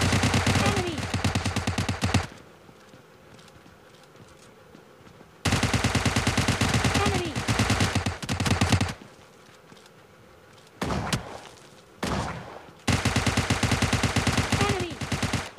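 Automatic gunfire in a battle royale video game: three loud sustained bursts of rapid shots, each lasting a couple of seconds, plus two short bursts, separated by quieter stretches of game ambience.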